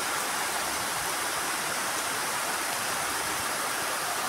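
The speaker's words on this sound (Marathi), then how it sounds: "तरी तो पाऊस आला ओला करायला" Unseasonal rain falling steadily, a dense continuous hiss of drops with no breaks, even and moderately soft throughout.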